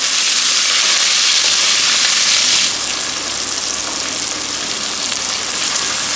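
Green chili and onion fry with salt in a hot pan while being stirred, making a loud, dense, close sizzling hiss that eases slightly partway through and continues steadily without talk.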